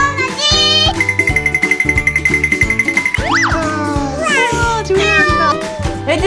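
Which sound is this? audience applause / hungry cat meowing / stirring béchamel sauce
hungry cat meowing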